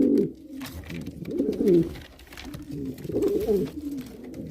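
Homing pigeons coo nearby in soft, rolling low bursts that repeat several times and rise and fall in loudness.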